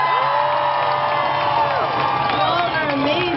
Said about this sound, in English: How about this crowd gathering here today?